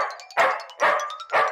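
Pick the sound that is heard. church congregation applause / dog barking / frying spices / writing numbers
dog barking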